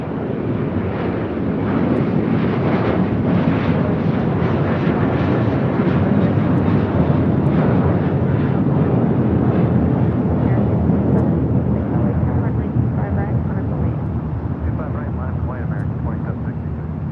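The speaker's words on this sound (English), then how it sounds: "That was American Airlines Flight 2135 heading to Orlando in an A321." An American Airlines Airbus A321 takes off at San Francisco International Airport, its broad jet roar loud and sustained throughout, with steady wind rumble on the microphone.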